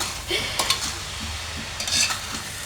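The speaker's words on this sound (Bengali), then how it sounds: "এখন আমি এটাকে ভালো করে নেড়ে নেব আর যতক্ষণ পর্যন্ত সেদ্ধ না হয়" Mango pulp cooking with sugar in a pan is stirred with a spoon, giving low bubbling and a handful of scraping, clinking strokes against the pan, close by with no speech.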